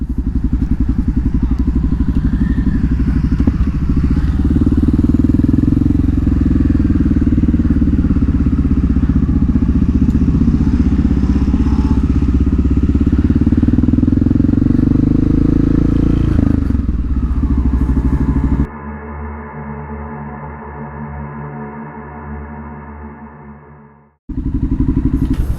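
Loud Honda XR650L supermoto motorcycle on the move, a steady, heavy single-cylinder engine drone with some clatter, shifting to a lower, steadier idle-like note before a brief dropout and return.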